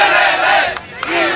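A crowd at the Chilean miners' rescue lets out a loud, sustained collective shout and cheer, one brief burst of voices rising together close by.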